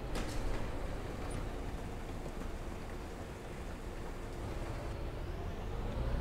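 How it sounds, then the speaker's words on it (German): Diesel engine of a city bus starting up and idling in Bus Simulator 18, a steady low rumble with broadband noise that holds at an even level, then swells slightly toward the end, with no talk over it. "Den Motor starten."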